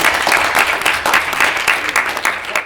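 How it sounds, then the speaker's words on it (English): Audience applause at a business challenge event, a dense burst of many hands clapping steadily and close, with no talk over it across the whole stretch. "Big round of applause."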